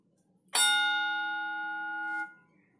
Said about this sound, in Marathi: बेलच्या आवाजावरून तुम्हाला कळलं असेल की एकच आवाज आला एकदाच आवाज आला म्हणून त्याला सिंगल स्ट्रोक बेल असं म्हणायचं